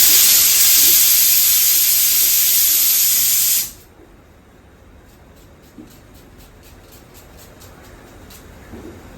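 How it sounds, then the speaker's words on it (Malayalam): A kitchen pressure cooker releasing a loud, continuous hiss of steam for several seconds before it cuts off abruptly, leaving quieter room noise afterward. "സാധനങ്ങൾ കുക്കർ അടിക്കുന്നുണ്ട്."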